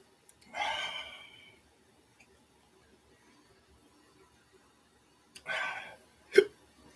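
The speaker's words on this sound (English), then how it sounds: "Got the hiccups." Hiccups from a man after eating a Carolina Reaper pepper: two breathy gasps about five seconds apart, the second ending in a sharp, loud hiccup, with near silence between.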